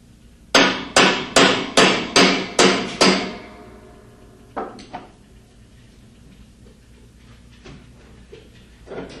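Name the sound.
hammer striking hex wrench on nut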